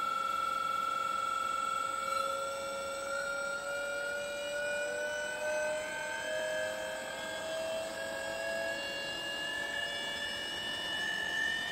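An inverter-driven induction motor spinning steadily at around 1350 RPM gives a continuous tonal whine with faintly rising pitch throughout, loud and close, without talking.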